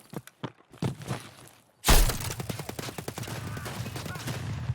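Gunfire in the video game Escape From Tarkov: a few scattered shots and faint footsteps, then a loud sudden burst of rapid automatic fire with sharp repeated cracks continuing to the end.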